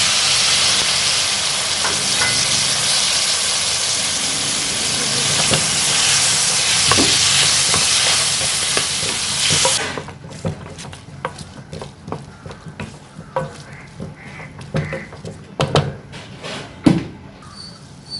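Onions, tomatoes and spices sizzle in hot oil for a Tamil-style kurma, a loud steady frying hiss that drops abruptly partway through to quieter crackles and occasional stirring clatter.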